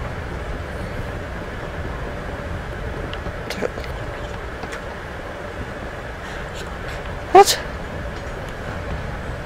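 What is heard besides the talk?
train riding on rails in video game Life is Strange: Before the Storm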